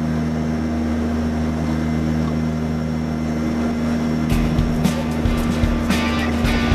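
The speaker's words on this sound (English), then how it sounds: "Really flying the plane. He's steering it." A plane in flight gives a steady, droning engine hum with a strong low tone throughout, joined in the last few seconds by irregular clicks and knocks close by.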